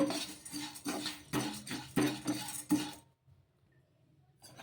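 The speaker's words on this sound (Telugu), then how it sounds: "ఒక కడాయి అయితే పెట్టేసుకొని ఇప్పుడు అందులోకి ఓట్స్ అయితే వేసుకుందాము" Dry oats stirred in a kadai with a metal spoon, about eight rhythmic scraping clinks close up, then the stirring stops and near-silence follows.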